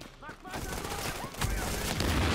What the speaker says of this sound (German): Erstmal daneben geschossen.